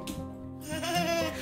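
A young child imitates a sheep's bleat with a wavering, nasal 'baa' voice, one drawn-out call heard close and alone.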